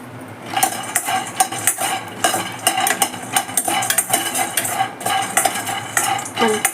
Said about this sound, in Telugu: పల్లీలు కాస్త పచ్చిదనం పోయేంత వరకు వేయించుకోవాలండి.